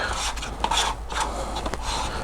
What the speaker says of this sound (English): I'll make sure I scrape off as much as I can to get it into the cup.